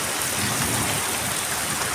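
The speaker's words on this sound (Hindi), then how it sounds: "बारिश ने कई शहरों को पानी पानी कर दिया।" Heavy rain falls on city streets as a dense, steady hiss of downpour with a continuous wash of drops and no breaks or voices.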